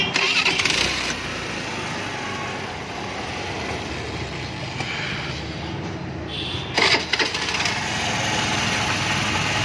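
A car engine self-started after repair at a Pondicherry auto workshop: a cranking start that catches into a steady, rough idle, loud and close, with a couple of bursts of revving and rattling.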